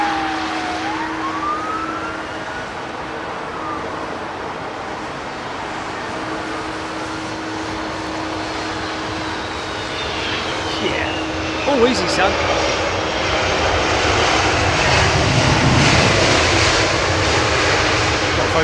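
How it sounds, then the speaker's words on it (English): A Boeing 777 with Pratt & Whitney jet engines taxis at London Heathrow, its steady loud roar with a whining tone building toward the end. Someone speaks briefly over the noise. "The sound of those Pratt & Whitneys. Are they Pratt & Whitneys on that 777?"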